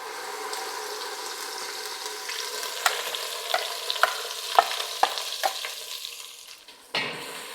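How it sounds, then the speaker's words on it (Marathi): Ground masala paste for Kolhapuri misal fries in oil in a pan, a soft steady sizzle punctuated by a run of sharp spatula taps and scrapes against the pan, growing busier before a louder stir near the end. "आणि हे वाटण आहे ना आपल्याला मस्तपैकी असं फ्राय करून घ्यायचंय."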